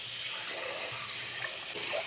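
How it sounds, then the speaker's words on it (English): Tap water runs steadily into a cooking pot being rinsed at a kitchen sink, a close, continuous hissing splash with no voices over it. "I will just rinse this pot because I want to boil or blanch my broccoli in here"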